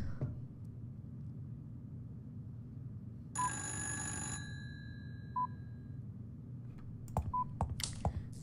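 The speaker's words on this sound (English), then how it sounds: "Phone ringing." A phone in the point-and-click game Fran Bow rings, a bright electronic trill that sounds for about a second over a dim, low ambient drone, followed by a few short beeps and clicks.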